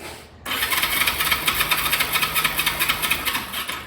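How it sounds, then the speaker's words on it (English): Starter motor on a Honda CB350 motorcycle cranking the engine: a sudden start, then a rapid, evenly pulsing mechanical whir and chatter that runs steadily for several seconds at close range, with no speech. "Ooh, that is a touchy starter."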